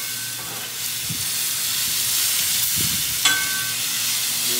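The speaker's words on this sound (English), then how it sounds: "Give this a stir." Mushrooms and aromatics sautéing in a hot pan give off a steady sizzle and hiss, with a few soft scrapes and clinks of a spoon stirring them, close by and without any talking.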